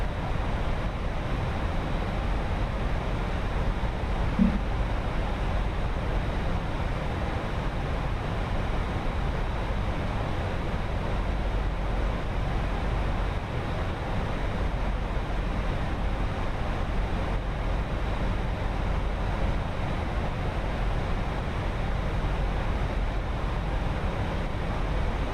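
Fenix A319 airliner engines in Microsoft Flight Simulator 2024 on approach, a steady, loud broadband roar and rumble that holds evenly throughout with no talking over it.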